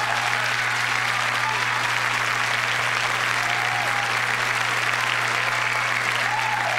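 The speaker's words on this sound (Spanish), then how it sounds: "¡Aplausos!" Studio audience applauding steadily at a televised Mexican comedy show, a dense continuous clapping that stays loud throughout with a faint hum underneath.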